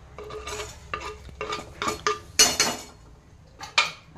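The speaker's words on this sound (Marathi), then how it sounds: "कांदा चांगला परतून घ्यायचा, कच्चा नाही राहू द्यायचा" Onion frying in hot oil with cumin, fennel and coriander seeds, stirred with a spatula against the pan in a series of distinct scraping, clinking strokes with soft sizzle between.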